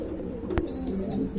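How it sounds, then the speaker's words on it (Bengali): A homing pigeon at a pigeon farm gives a single low, soft coo, close by amid faint background noise. "এটা হোমোজি শোকিং কবুতর"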